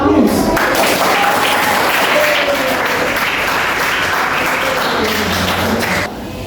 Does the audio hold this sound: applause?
yes